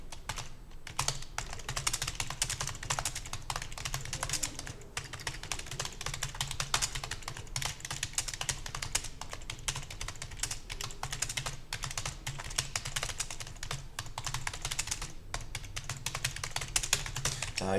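Rapid, continuous clicking of a computer keyboard as text is typed steadily into a Hangul word processor, close and even in rhythm throughout with no pauses for talk.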